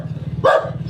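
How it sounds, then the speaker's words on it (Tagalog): A dog gives a single short bark at a house in the Philippines, fairly close and loud against steady low background hum. "Ay, may aso."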